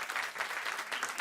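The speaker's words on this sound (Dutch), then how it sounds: "Ja, applaus." An indoor audience at a live talk event claps together, a dense, steady patter of applause throughout with no voices over it.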